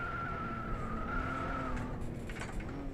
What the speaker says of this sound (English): Huge drift into that corner.